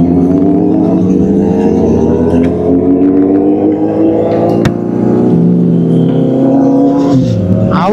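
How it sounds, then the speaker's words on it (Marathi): Kawasaki Z800 and Z900 superbike engines rev loudly and steadily up close, layered droning tones rising and falling with throttle, a sharp blip near the middle, on a ride to Lonavala. "आवाज ऐका फक्त आता गाड्यांचे तुम्ही"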